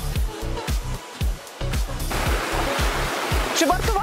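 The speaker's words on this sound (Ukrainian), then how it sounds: "Чи вартувало йти цілих 5 кілометрів, щоб подивитися на цей водоспад, де вода падає з висоти 15 метрів?" A Carpathian waterfall with water dropping 15 metres gives a steady broadband rush that swells in partway through, preceded and accompanied by regular low thumps like footsteps nearby.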